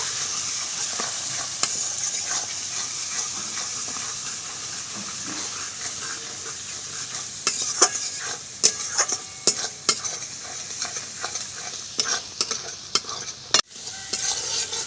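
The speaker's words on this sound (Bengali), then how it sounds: "হলুদ গুঁড়ো, স্বাদ মতো চিনি দিয়ে আমি মশলাটা ভালো করে কষিয়ে নেব।" Spice paste with chilli powder, turmeric and sugar fries in a pan for prawn kofta curry, a bright steady sizzle with sharp spatula taps and scrapes growing busier toward the end, close and without talking.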